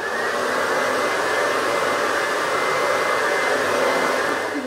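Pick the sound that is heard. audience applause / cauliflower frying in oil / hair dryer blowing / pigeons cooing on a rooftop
hair dryer blowing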